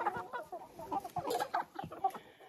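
Laying hens and young pullets cluck and murmur close by in a farmyard coop, with soft, irregular clucks and chattering calls, fairly quiet and with no one talking.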